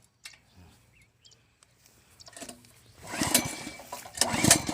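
A small engine on a water pump used for irrigation is pulled and coughs a few times, then catches and runs, rising into a steady, loud rattling drone outdoors.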